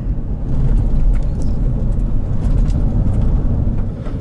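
A GMC Yukon SUV cruises at highway speed, around 60 to 70 mph, with a loud, steady engine and road roar rumbling continuously from inside the cabin.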